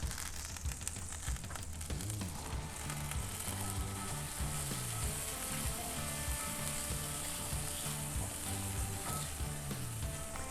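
Bourbon bubbling and reducing in a hot pan, a steady loud sizzle and fry that runs unbroken throughout, with faint stirring and no talking.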